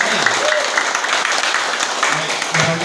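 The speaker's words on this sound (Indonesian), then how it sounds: "Tapi sebelumnya aplaus dulu untuk Ibu Hajah Atin." An audience claps at a party's viewing event for a vice-presidential debate, dense continuous applause that stays loud, with a voice cutting in near the end.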